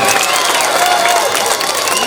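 An outdoor Pongal celebration audience breaks into dense, sustained clapping at a debate, a steady wash of many hands with no pauses.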